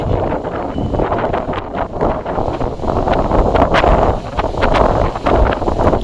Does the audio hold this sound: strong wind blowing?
yes